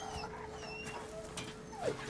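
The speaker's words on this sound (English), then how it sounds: "Sounds like a dog in distress" A dog caught in a bear trap whimpers in the Resident Evil 4 Remake video game, a faint, brief, thin whine that rises and falls against quiet game ambience.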